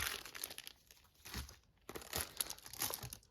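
Small medicine sachets rustle and crinkle close by in several bursts, with a short pause in the middle before more handling.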